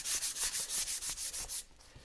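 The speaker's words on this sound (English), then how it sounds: "you're just going to give it a light sanding." Rhythmic back-and-forth rubbing of a sanding sponge on a surface, about a dozen quick strokes, close and fairly quiet, then stopping.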